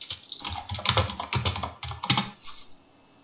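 Rapid, close keyboard clatter from a computer keyboard placed right by the microphone during a Die Gilde 2 gaming session, dense bursts of keystrokes that thin out and stop near the end.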